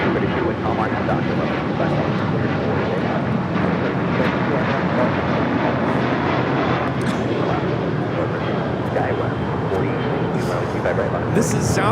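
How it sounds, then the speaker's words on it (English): A Southwest Airlines Boeing 737-700 departing for Albuquerque, a broad, continuous jet roar at moderate distance that holds steady throughout, with voices faintly present in the background. "3025 taking off to Albuquerque on a 737-700"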